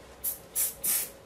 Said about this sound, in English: Could you spray that inside and just kind of get the crevices?